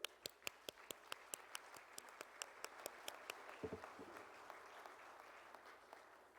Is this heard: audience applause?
yes